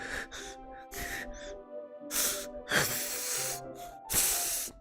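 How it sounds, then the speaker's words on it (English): Sharp hissing inhales drawn through clenched teeth, several distinct breaths spaced by short pauses in Doki Doki Literature Club Plus, close and fairly loud, with no talking. "A sharp inhale, like someone is sucking the air through their teeth"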